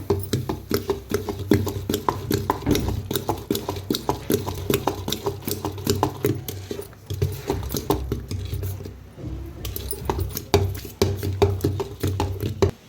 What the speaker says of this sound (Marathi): आता एकदम मिक्स करून घेऊया.